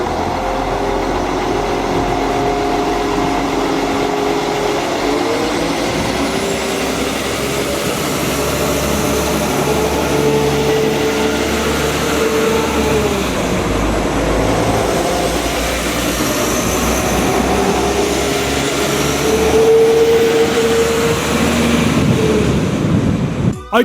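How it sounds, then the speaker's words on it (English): Class 172 diesel multiple unit train engine, a sustained low drone with tonal whine rising and falling as it works, heard with strong wind buffeting across the microphone for the full length. "My favourite diesel multiple unit is the Class 172, and that's mainly because of how it sounds."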